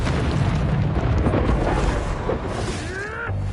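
A Confringo blasting spell in Hogwarts Legacy goes off as a loud, sustained rumbling explosion with a dense roar, fading toward the end, with a short whooshing spell effect.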